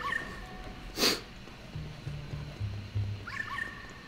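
Ghost dog from the Luigi's Mansion 3 video game, a few short low yips and whimpering growls, quiet and close, mixed with light game sound effects and chimes.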